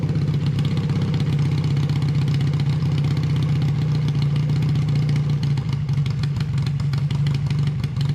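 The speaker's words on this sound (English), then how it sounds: "Idling good now." A 1981 Honda CM200T motorcycle engine idles steadily and close by after a carburetor cleaning, a low, even rumble with a slight clatter and no change in pace.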